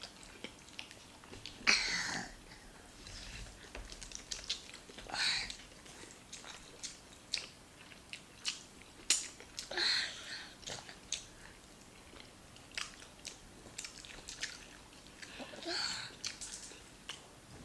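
Close, wet chewing and biting while eating leaf rice and assorted stew in a Nigerian food meal, soft intermittent mouth sounds in bursts with occasional small noises between.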